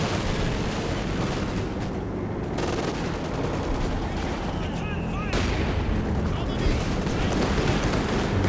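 An off-map artillery barrage falls in the video game Company of Heroes 2, a steady rumble of distant shell bursts and gunfire rolling under continuous battle noise, with a voice speaking over it.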